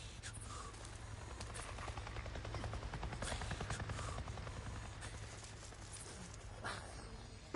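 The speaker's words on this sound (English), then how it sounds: "It just buzzed right over me and acted like I wasn't even there." A helicopter flies overhead in the Days Gone video game, its steady rhythmic rotor chop swelling as it passes close, with a few faint scattered clicks and thuds beneath.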